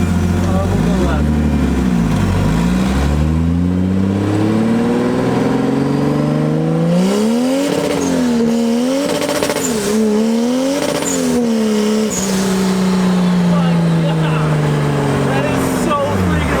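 A 2JZ-swapped Honda Civic engine revs hard while driving, rising and falling in loud sustained pulls with a rough, throaty drone throughout.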